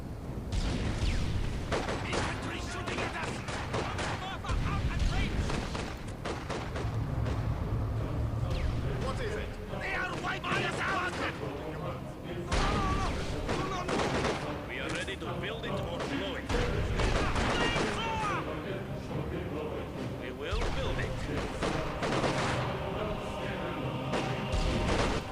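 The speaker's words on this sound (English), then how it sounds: "Infantry shooting at us." Infantry rifle and machine-gun fire in the WWII strategy game Company of Heroes 2, Soviet campaign, scattered bursts and cracks with explosions in a busy battle, under frequent radio-style voices.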